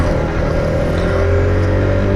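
Honda CRF250L motorcycle, a 2017 model, being ridden, with a steady, loud engine drone and wind noise that hold throughout without speech.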